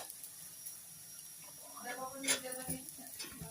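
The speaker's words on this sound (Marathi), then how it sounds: "नरम होईपर्यंत फ्राय करायची छान" Bitter gourd fries in a pan with a faint, low sizzle and occasional stirring scrapes under quiet talking.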